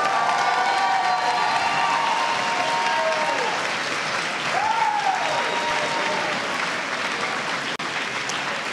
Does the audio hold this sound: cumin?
no